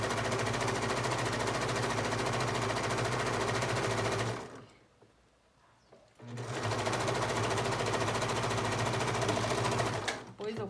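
A sewing machine stitches a French seam on viscose in rapid, loud mechanical bursts, running about four seconds, pausing briefly, then running again before stopping.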